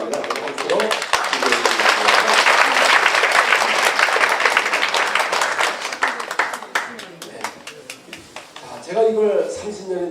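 A church congregation at a healing revival meeting claps in a loud, dense round of applause that gradually thins into scattered claps, and a voice briefly comes in near the end.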